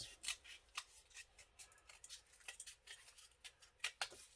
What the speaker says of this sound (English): Remember to cut out that whole chunk, get that basic shape, and then it makes it a lot easier to cut out